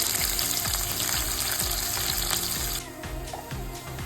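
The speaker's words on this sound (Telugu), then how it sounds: "ఆనియన్స్ని మంచిగా గోల్డెన్ బ్రౌన్ కలర్ వచ్చే వరకు ఆయిల్లో ఫ్రై చేసుకోవాలండి" Thinly sliced medium onion frying in hot oil, a dense, steady sizzle with a faint rhythmic stirring pulse, close and fairly loud, easing slightly toward the end, with no talk.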